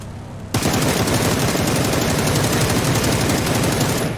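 Sustained automatic gunfire in the video game PUBG erupts suddenly and rattles on loud and continuous for several seconds, a dense rapid burst of shots.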